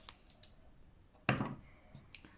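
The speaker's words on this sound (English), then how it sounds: "go in with the cutters and snip that off" Jewellery cutters snip off the excess end of beading wire while a glow bead bracelet is finished: a few faint small clicks, then one crisp close snip, with no voices.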